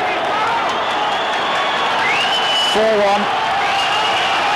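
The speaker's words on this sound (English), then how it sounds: "The crowd furious. You'd think that was an equalising goal or even the winner, the way they've greeted it." Stadium crowd at a Real Madrid versus Osasuna La Liga match reacting loudly after an Osasuna penalty goal, a sustained roar with whistles under commentary.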